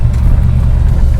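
A 1973 Dodge Dart Swinger with a 318 engine does a one-wheel burnout, giving a brief, loud, close-up roar of deep engine rumble lasting about a second.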